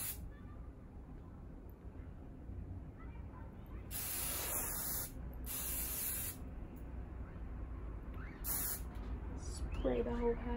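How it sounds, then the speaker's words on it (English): An aerosol hairspray can hisses over hair being styled into a middle-part ponytail, in three bursts of steady spraying lasting about a second each, close up against a low background hum. "Now I'm gonna spray it down a little bit"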